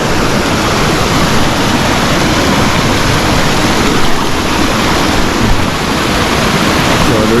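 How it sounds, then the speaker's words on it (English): A river rushes down past waterfalls, a loud, unbroken roar of white water heard close up with no voices. "So it have the falls then and everything. The river running right up, right down there."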